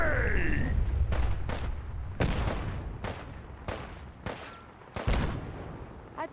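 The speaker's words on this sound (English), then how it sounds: "Throwing grenade!" A grenade explodes during a Fallout 4 firefight, its boom set among a string of sharp, loud gunshot bursts that repeat irregularly for several seconds with no voices.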